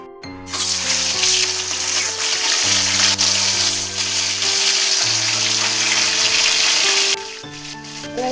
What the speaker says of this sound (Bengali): এবারে মাছটা ছেড়ে দেবো